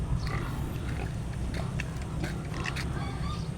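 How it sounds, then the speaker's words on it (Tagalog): A newly bought sow, tied up outside its pen, grunts in low, rough bursts close by against steady background noise, with no one speaking over it. "Puntahan natin yung ating nabiling inahing baboy."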